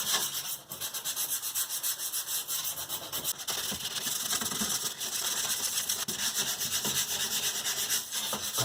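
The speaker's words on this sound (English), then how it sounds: "I want to scuff it up so the paint has a better chance of sticking" Abrasive pad scuffing a bathtub surface around the overflow drain before painting, a steady close rhythmic scrubbing with fast repeated back-and-forth strokes and no talking.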